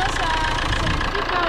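A Fiat 1.9 JTD diesel with a leaking, sticking injector idles, giving a steady loud clattering drone that holds unchanged throughout.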